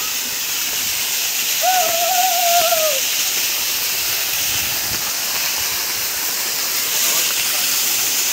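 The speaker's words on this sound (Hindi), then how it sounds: "तो दोस्तों ये है झरना, जो कि पानी हो गया है कम।" A low-flowing waterfall at Ramgarh Chutupallu in Jharkhand gives a broad, steady hiss of falling water, loud and constant, with a brief tonal call or whistle rising over it early on.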